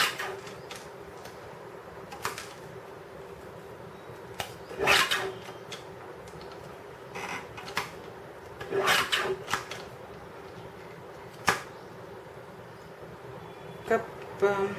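A trimmer cuts faux tile pieces in a few short, dry rasping slices spaced several seconds apart over a quiet, steady background.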